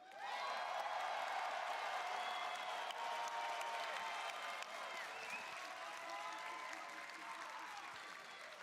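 A crowd at an esports arena applauds and cheers in a dense, sustained wash of clapping with whoops, loud and continuous, tapering slightly toward the end while a voice talks over it.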